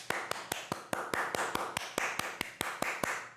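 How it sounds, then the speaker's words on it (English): Single hands clap in a steady, even rhythm, about fifteen sharp, close claps spaced evenly with nothing else alongside them. "Clap, clap, clap, clap, clap."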